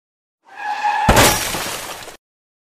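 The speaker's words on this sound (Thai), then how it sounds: "A car crashed into a motorcycle." A car crashing into a motorcycle in a street accident, heard as a sudden loud smash with shattering, breaking debris that rings out for about a second before cutting off, preceded by a brief tonal whine.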